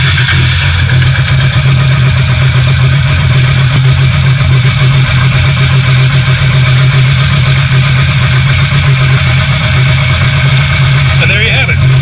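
A multi-carburetor motorcycle engine idling steadily with a synchronization gauge hooked to its carburetors, a loud, even low rumble lasting throughout without change in pace.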